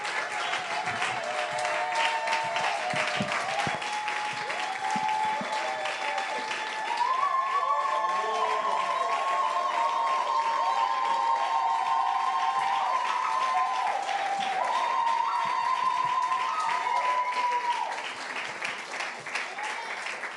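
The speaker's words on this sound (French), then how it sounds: "j'aimerais qu'on acclame encore pour notre maman" A church congregation applauds a pastor's wife in sustained, dense clapping that swells partway through and continues throughout, with voices and cheering mixed under the applause.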